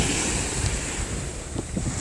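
Strong wind blows across a bay shore with surf, a steady, loud roar buffeting the microphone up close, with no voices.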